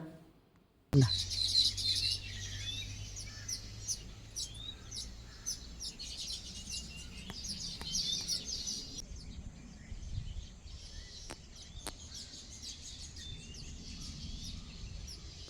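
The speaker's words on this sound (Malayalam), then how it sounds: "ഇത് ആ കിളികളുടെ കളകളാരവും ഒക്കെ കേട്ടോ" Small birds chirp and twitter continuously over a low, steady background hum, with a few sharper tweets standing out now and then.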